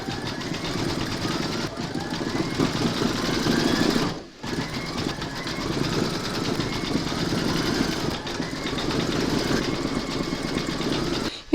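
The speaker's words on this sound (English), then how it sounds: "Load your thread colour for the word wicked into your machine, and then you're going to stitch round number 4" An embroidery machine stitching a design on fabric in a hoop, a steady close mechanical whir and rapid needle clatter running continuously with one brief break partway through.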